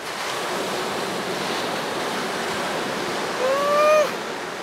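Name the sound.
ocean waves at Vase Rock, Xiaoliuqiu island, Taiwan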